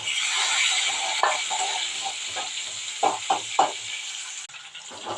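Shallots and tomatoes sauté in a pan for a banana-flower kurma, giving a steady close sizzle and hiss broken by a few soft knocks and stirring taps.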